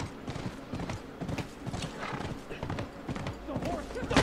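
Clip-clopping hooves and snorting from a horse in the video game The Last of Us, rhythmic steps close by with a whinny near the end, mixed with game ambience.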